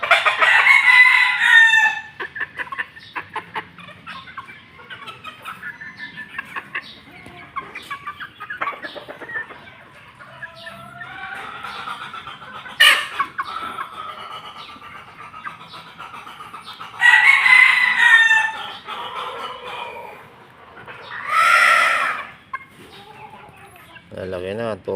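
Backyard chickens cluck while a rooster crows twice, loud and close, with scattered clucks and calls in between and brief talk heard among the birds.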